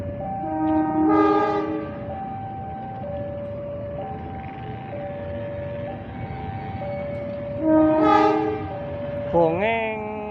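A passing train near Cikampek station in Indonesia sounds its horn in two strong multi-tone blasts a few seconds apart, loud and close over a steady rolling rumble, with a shorter horn note near the end.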